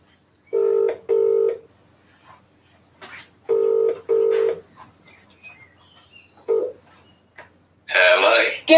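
A phone on speakerphone is dialed with several paired beeps of keypad tones, then rings through the speaker, followed by a brief burst of noisy line sound, all in a quiet room.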